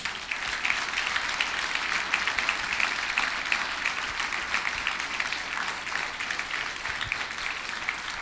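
A church congregation at a Friday night youth-week service applauds together, a dense, steady wash of many hands clapping that holds at an even level throughout, with no speech over it.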